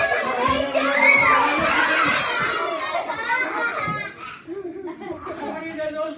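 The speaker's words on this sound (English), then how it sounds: "What are you guys all screaming about?" A crowd of children screams and shouts excitedly all at once, loud and close, peaking early and then tapering into scattered cries and chatter.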